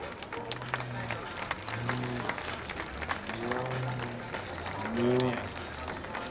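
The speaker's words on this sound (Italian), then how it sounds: "io a questo punto un bel applauso lo farei di nuovo" Scattered clapping from a crowd at the Jesolo air show under a voice talking loudly over it, with broadband bursts of applause rising and falling.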